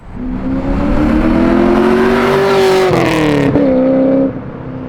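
LS V8-swapped BMW E36 M3 engine revving loudly and close, a steady rising drone that climbs in pitch, drops sharply near the end, then settles at a lower idle-like tone, with no talking.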